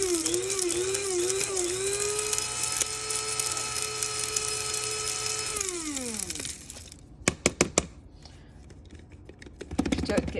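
Electric grinder whirring steadily as it powders dried vegetables, a loud motor whine that winds down after about six seconds, followed by a few sharp knocks and rattles as the container is shaken.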